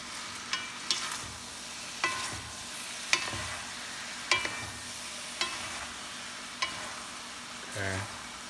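Dinuguan, a Filipino pork blood stew, being mixed in a pan: a low simmering hiss broken by regular spoon clinks and scrapes against the pan about once a second, close by.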